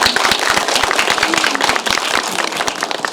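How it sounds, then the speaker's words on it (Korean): Audience applause after a film screening and Q&A, a dense stretch of individual claps with sharp close hand claps standing out over the crowd, steady and loud throughout. "박수 쳐주세요."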